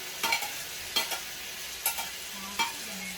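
Tomato, ginger and garlic stir-fried in a pan for a coconut-milk chicken curry: four short, close scraping stirs a second or so apart over a faint, steady sizzle.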